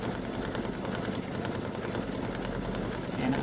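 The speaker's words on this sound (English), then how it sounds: "my machine shows it takes 23 minutes stitching time to finish this design" An embroidery sewing machine stitches a filled design with a steady, dense mechanical whir at even loudness throughout, no pauses, close up.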